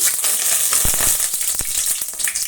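Cardamom, bay leaf, cinnamon and dried chilli pieces fry in hot oil in a pan for a soya gravy, giving a close, dense sizzle with occasional spoon taps.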